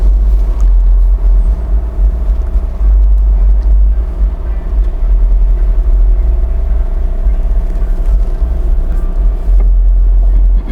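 A heavy truck rumbles past on a residential street lined with older homes, a loud, sustained low-frequency drone that holds steady throughout with no talking.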